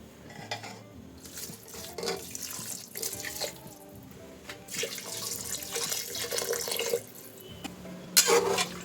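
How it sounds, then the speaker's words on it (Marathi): Water poured into rice in a pressure cooker for a Maharashtrian rice dish, a steady close trickle and splash with light clinks of the pot, with no talk. "आपल्या तांदळाला किती पाणी लागतं त्याप्रमाणे घालायचं कुकरमध्ये"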